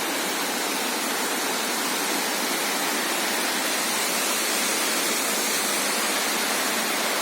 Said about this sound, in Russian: Сам шум водопада тоже слышен